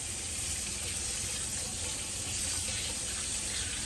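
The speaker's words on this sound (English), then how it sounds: "Rinse your hands in a downward direction so that all the water travels downward." Warm tap water runs steadily into a sink as hands are rinsed during a clinical handwashing demonstration, a constant close hiss and splash with no talk.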